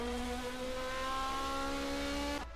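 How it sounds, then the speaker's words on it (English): A race car in a 1980 DRM Division 2 race at the ADAC Eifelrennen downshifts for the start-finish area, a loud, close, tonal engine whine that steps through gears and cuts off abruptly near the end. "Downshifting for the start-finish area"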